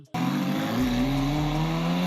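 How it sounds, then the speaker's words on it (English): A Dodge Stealth 3000GT with a stainless exhaust pulls hard under load, its engine note bursting in loud and close, then holding a strong, rising drone with rough low rumble throughout. "The engine's under a load, and it's just got that good Ferrari in gear."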